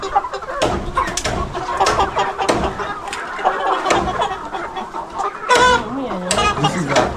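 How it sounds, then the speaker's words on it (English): Chickens cluck and squawk close by in an irregular, busy stream on a poultry farm, with a rooster among them calling out over the flock. "This is a rooster."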